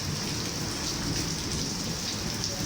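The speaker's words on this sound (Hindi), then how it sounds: "अब हम बारिश को एंजॉय कर रहे हैं क्लाउडी वेदर के अंदर।" Heavy, steady rainfall pours down in Karachi during a prolonged storm, a dense, continuous hiss of drops on surfaces at close range, with no voices heard.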